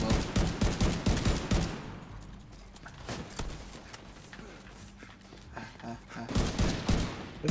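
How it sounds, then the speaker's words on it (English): Vector submachine gun in The Division 2 firing rapid, high-rate bursts, loud and close, with a quieter gap mid-clip before the fire resumes alongside other gunfire. "This gun sounds so odd. That is La Vector Tato."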